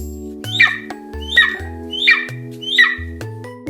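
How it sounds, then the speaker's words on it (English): A golden eagle, a large bird of prey, gives four sharp, rising squawk calls spaced roughly half a second apart over a steady low musical background. "Golden eagle."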